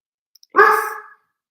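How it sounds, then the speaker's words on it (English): A single bark or yelp from an old dog nearby, short and fairly loud, preceded by two faint clicks and followed by silence. "Got a disturbed old dog over there."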